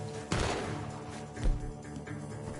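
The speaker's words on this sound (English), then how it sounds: "The gunshots are coming from that barn." Gunshots ring out from a barn in the Red Dead Redemption 2 western game, a strong burst near the start and another sharp report about halfway, set against a steady ambient backdrop.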